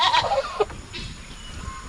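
A young male goat at a farm gives a short wavering bleat near the start, followed by quieter background noise and faint rustling.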